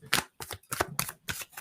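Tarot cards shuffled by hand in bursts of crisp riffling, five or six short rapid flurries separated by brief pauses, close and clear with no talking.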